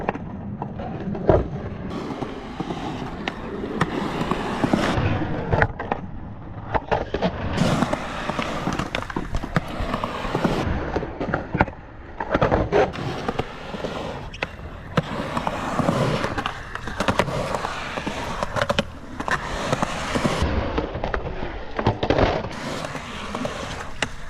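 Skateboard wheels roll and clack on a ramp as a rider repeatedly performs 50-50 axle stalls to fakie on the coping, with loud repeated grinding scrapes and sharp knocks of metal trucks against the coping edge.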